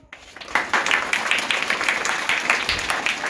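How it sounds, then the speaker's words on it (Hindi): An audience applauds to welcome a guest at a school ceremony marking Sardar Patel's death anniversary; steady, dense clapping rises sharply after a brief quiet start and holds evenly, with no talking. "दिग्विजय भारत जी को आप लोग उनको स्वागत अपने तालियों से करेंगे।"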